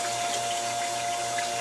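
Water is pumped into a fish tank filter, a constant rushing, splashing flow over a steady mechanical hum, close and even throughout with no speech.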